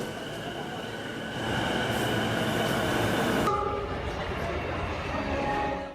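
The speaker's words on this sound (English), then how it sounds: "The train stops only briefly," A Tokyo commuter train rumbles and hisses close by, then its noise drops abruptly as it slows and halts at a station, leaving a lower hum with faint tones.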